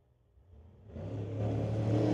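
A Scion and a BMW launch at a street-legal drag racing event, the engine roar rising from near silence into a swelling, revving growl that grows louder as the cars accelerate.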